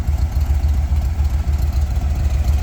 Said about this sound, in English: All right, we'll shut off the engine.